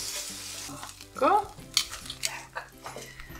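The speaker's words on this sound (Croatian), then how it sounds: "sam ipak odlučila i pržiti piletinu" Chicken frying in a pan with a steady background sizzle, broken by several sharp clinks and scrapes of a utensil stirring against the pan.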